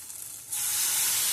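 Onions and tomatoes sizzling in a pan while cooking fish curry, a close, bright frying hiss that swells suddenly louder partway through and holds steady, with no talking.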